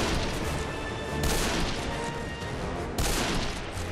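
Video game gunfire in Deadfall Adventures: a loud, continuous rattle of shots with two heavier blasts standing out, close and dense, with no voices.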